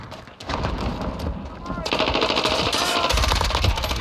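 Rapid automatic M13 rifle fire in Call of Duty: Warzone, loud bursts rattling continuously and growing denser toward the end.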